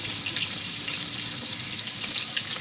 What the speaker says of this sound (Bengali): দিয়ে দেবো একটু জল।